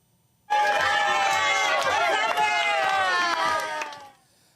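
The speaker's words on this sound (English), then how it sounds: "students and staff held a clap out for graduating grade 6s" Students and staff clapping and cheering at a school clap-out for graduating grade 6s at Ogden Junior Public School, a loud, sustained roar of cheers, shouts and chatter that swells in abruptly and fades near the end.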